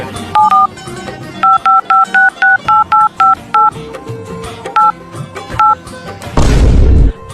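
Mobile phone keypad tones dialing a number: about a dozen short, clear dual-pitched beeps in a quick, uneven rhythm, close and loud with no talking, ending in a sudden heavy low boom.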